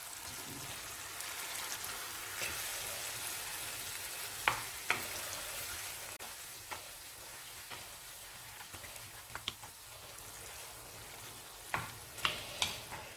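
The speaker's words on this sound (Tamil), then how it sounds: "இப்போ சிக்கனை சேர்த்து வதக்கிடலாம்" Chicken sautéing with tomatoes in a pan for a white chicken kurma, a faint, steady hiss of frying broken by a few soft clicks and taps of a spoon, close and quiet with no voices.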